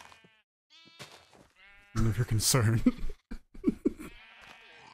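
Sheep in Minecraft bleat in short game sounds among several players chatting over each other, the animal calls mixed in with loud overlapping talk and laughter.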